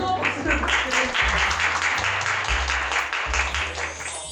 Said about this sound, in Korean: 한 번 더 박수를 부탁드립니다